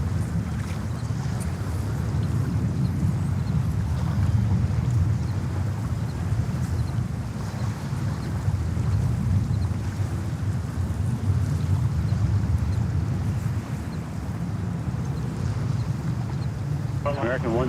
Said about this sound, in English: That is Uzbekistan Airways 787, the baby liner coming in from Tashkent.